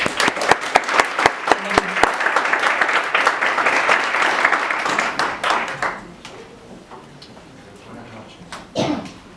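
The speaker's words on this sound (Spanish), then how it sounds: "Recibámoslo con un fuerte aplauso." Applause at a lecture event, with sharp, close individual claps over a dense crowd clapping that fades out after about six seconds into a quieter room with faint voices and a brief noise near the end.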